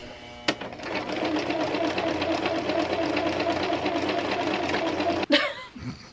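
A sewing machine runs steadily at close range with a rapid, even mechanical whir and needle chatter for several seconds, then stops with a clunk.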